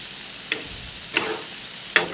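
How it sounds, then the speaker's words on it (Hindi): Tawa kaleji (liver) with masala and green chillies fries on a hot griddle, with a quiet steady sizzle and three separate spatula taps and scrapes. "मसाला भी चारों तरफ से अच्छी तरह भुन रहा है"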